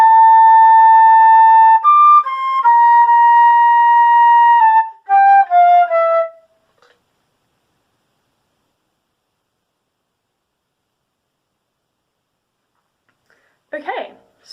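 Flute plays bars 5 and 6 of a piece: clear sustained notes with a brief gap for a breath, ending after about six seconds, then near silence with a faint rustle at the end.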